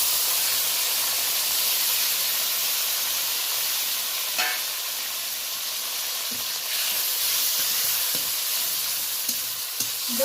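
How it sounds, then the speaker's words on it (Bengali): Grated onion, tomato and green chilli sizzle in hot oil tempering, a loud, even, steam-laden hiss held for the whole stretch, with a few faint clicks of the pan and no talking. "এই পর্যায়ে আমি গ্রেট করা পেঁয়াজ, টমেটো, কাঁচা লঙ্কা সব একসাথে দিয়ে দেব"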